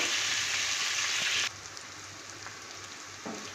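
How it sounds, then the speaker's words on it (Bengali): Chopped onion frying in a pan: a bright, hissing sizzle that drops sharply in intensity partway through, continuing as a quieter crackle with a few soft stirring knocks. "এবারে দিয়ে দেব পেঁয়াজ কুচিটা পেঁয়াজটা হালকা লাল করে ভেজে নেব"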